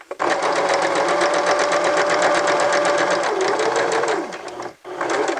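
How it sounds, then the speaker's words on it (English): A sewing machine stitches forward to the end of a seam, a loud, close, continuous run with a brief dip near the finish and a short restart. "Stitch forward a couple of stitches, back stitch, and then stitch forward all the way to the end."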